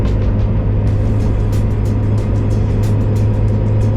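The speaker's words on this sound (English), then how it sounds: "And downshift as we go up this hill right here." A Mazda Miata or Nissan 350Z sports car engine drones loud and steady while downshifting to climb a hill, a constant low roar with no pauses.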